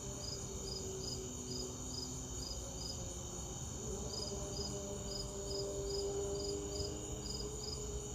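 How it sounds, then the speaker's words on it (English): Crickets chirp in rapid, regular pulses against a steady, quiet outdoor hum on a homestead with a slight breeze, with a continuous insect drone underneath. "Now you can hear all the crickets."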